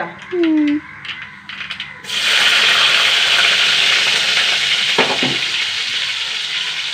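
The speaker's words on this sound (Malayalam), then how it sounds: "ഇനി കുറച്ച് കടുകും പൊട്ടട്ടെ" Mustard seeds spluttering in hot oil in a pan, with a loud continuous sizzle that rises after a brief clatter and holds steady, close by and alone.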